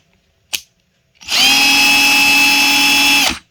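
Einhell TH-CD 12-2 Li 12V cordless drill spinning with no load in second speed: a click, then a steady, close high-pitched motor whine held for about two seconds before it stops.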